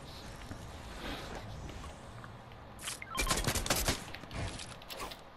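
Rapid bursts of automatic gunfire in the game Fortnite crackle in clusters after a quieter stretch of faint shuffling, moderately close and sharp, with several volleys in quick succession toward the end.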